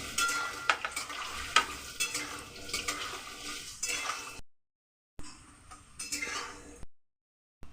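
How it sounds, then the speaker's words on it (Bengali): Carrots and other mixed vegetables sizzle in a pan while a utensil stirs and clinks against the metal, close and fairly quiet, broken by brief silent gaps. "এরকম করে এক একটা সবজি আমাদের ভেজে নিতে হবে"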